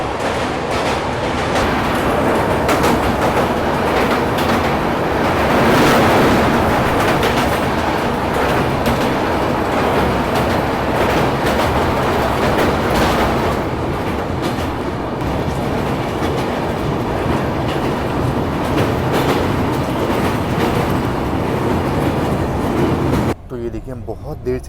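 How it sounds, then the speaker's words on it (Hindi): Mumbai-Ahmedabad Shatabdi train crossing a bridge, a loud continuous rumble of wheels and steady clickety-clack passing close for most of the stretch, heard from a moving passenger train, with voices talking over it. "ये देखो इस ब्रिज पे अपनी मुंबई अहमदाबाद शताब्दी का क्रॉसिंग हो रही"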